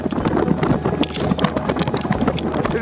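Strong wind buffets the summit of Mount Rainier at about 4,300 metres, a loud, continuous gusting roar with rumbling low end and no pauses.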